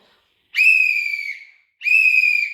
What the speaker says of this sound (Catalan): I va tornar a xiular ben fort.